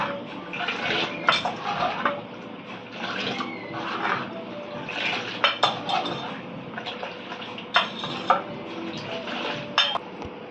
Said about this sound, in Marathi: हे चांगलं मिक्स करून घेऊया